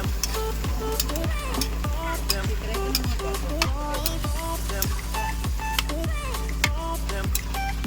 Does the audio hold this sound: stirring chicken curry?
yes